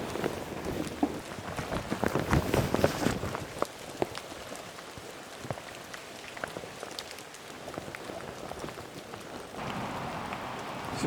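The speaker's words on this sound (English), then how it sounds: "I'm trying to shield the lens from these heavy raindrops that are coming down." Heavy rain pours down outdoors onto a camera setup with a telephoto lens, a steady dense patter with sharper drop impacts throughout, loud and close, no voices.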